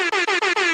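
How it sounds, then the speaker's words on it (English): A loud air horn blasts four times in quick succession, each burst a bright, brassy, sustained honk cut off by a short gap, close and dominant, with no one speaking over it. "can we get an air horn for that?"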